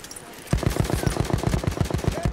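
Rapid automatic gunfire in the video game Battlefield 1 starts abruptly and keeps up a fast, even rattle of shots at close range, fairly loud and steady until the end.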